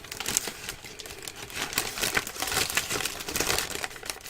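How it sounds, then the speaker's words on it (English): Paper being cut by hand for a Christmas gift box album, giving a close, steady run of crisp snipping and rustling with no talk. "I'll cut another piece."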